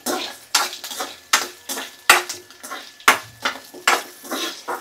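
Green chillies and urad dal fry in a pan while a metal spoon stirs in quick repeated scrapes and clinks over a bright, steady sizzle, close and loud, with no one speaking.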